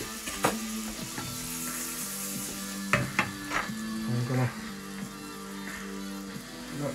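Garlic hitting a hot pan sizzles steadily at close range, with sharp clatters and scrapes of stirring breaking through the frying hiss.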